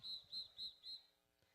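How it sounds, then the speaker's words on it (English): Referee whistles at a high school football game, four short shrill blasts in a steady rhythm, fairly clear over faint crowd and field noise. "Got some whistles blowing out here."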